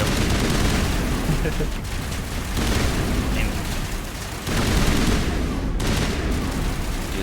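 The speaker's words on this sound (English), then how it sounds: "Stop shooting at me." Rapid gunfire and explosions from the video game Mass Effect sound continuously and loudly throughout, with someone talking over the shooting.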